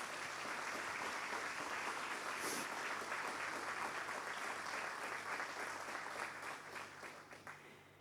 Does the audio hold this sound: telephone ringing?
no